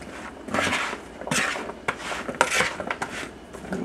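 An old spoon stirs okra coated in oil in a bowl, producing repeated close, wet scraping and rubbing strokes with occasional light clinks.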